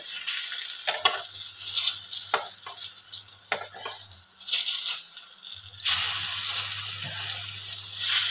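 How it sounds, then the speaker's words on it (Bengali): Thick slices of brinjal and pumpkin fry in a pan with a steady close sizzle, broken by a few clinks and stirring sounds, and the sizzle swells louder toward the end. "এদিকে বসিয়েছি বেগুন আর কুমড়ো ভাজা"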